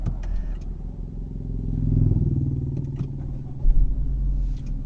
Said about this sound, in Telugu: ఇంజన్ స్టార్ట్ అయింది.